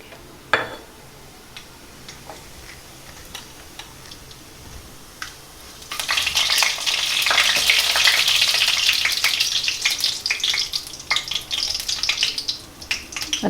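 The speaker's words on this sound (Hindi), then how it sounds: "अब राई और ज़ीरा जो रखे वो ऐड कर देंगे।" Mustard seeds and cumin hitting hot oil in a kadai on a medium flame, quiet ticks at first, then a loud crackling sizzle that bursts up and keeps popping near the mic.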